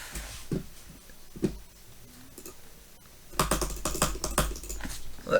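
Sharp plastic clicks from a wired computer mouse, a few scattered taps at first, then a rapid burst of close, crisp clicking in the second half with no talking.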